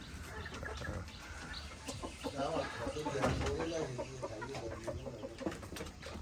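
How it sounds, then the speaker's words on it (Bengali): Hens and a large rooster on a home poultry setup cluck and call repeatedly at moderate distance, with scattered bird noises and some background voices mixed in. "এটা মুরগি না, এটা মোরগ, বড় সাইজের একটা মোরগ।"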